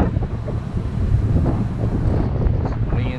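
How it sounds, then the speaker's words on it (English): Strong wind gusts buffet the microphone on the open deck of a cruise ship sailing north through Alaska, a loud continuous roar with low rumbling from the vessel and sea. "It's windy."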